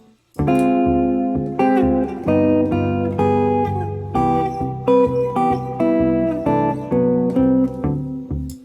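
Sustained ii–V–I jazz chords ring out one after another in a steady rhythm, each struck cleanly and left to decay, with no talking.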